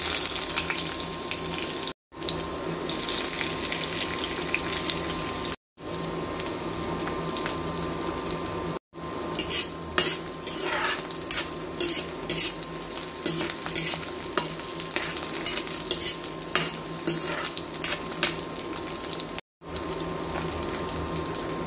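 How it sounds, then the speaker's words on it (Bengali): Meat frying in a small amount of hot oil in a home kitchen pan, a steady loud sizzle broken by short gaps, with clinking stirring strokes growing busier in the middle. "মাংস বসিয়ে দিলাম, তেল গরম হয়ে গেছে"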